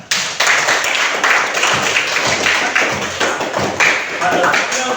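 Classroom children clapping hands together on cue at an Islamic religious lesson about Eid al-Adha, a dense burst of quick taps and slaps filling the room, loud and close with some voices mixed in.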